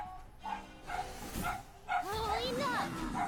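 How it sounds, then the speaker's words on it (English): Neighbors' dogs bark and yip in short bursts, followed by a whimpering, whining cry, heard at moderate distance indoors under a person's speech. "Some dogs from my neighbors are barking, but cannot do much about it."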